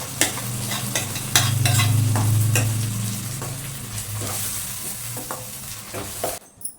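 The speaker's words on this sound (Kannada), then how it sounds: "ಇದಕ್ಕೆ ಈಗ ಟೊಮೊಟೊ ಪೇಸ್ಟ್ ಹಾಕ್ತಾಯಿದ್ದೀನಿ." Fresh tomato paste hits hot oil in a pan and sizzles loudly. It is stirred with repeated spoon scrapes, and the sizzle fades to quiet at the end.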